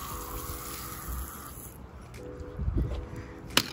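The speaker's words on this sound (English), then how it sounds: "I definitely get her a little rinse." Water runs and splashes while an eight-foot, forty-pound motley boa snake gets a rinse, a steady wash that shifts midway, with a few louder splashes near the end.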